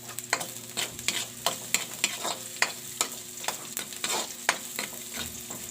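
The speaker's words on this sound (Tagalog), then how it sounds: "At yan, magigisa na tayo ng bawang sibuyas." Garlic and onion sautéing in a pan, with a steady sizzle under repeated sharp scrapes and knocks of a utensil stirring at a regular rhythm, close up and without talk.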